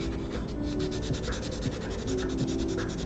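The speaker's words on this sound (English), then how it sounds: "Sanding a floppy noodle" Rubbing, scratchy sanding of a foam pool noodle being shaped into a mountain sculpture, steady and close for a few seconds with no voices.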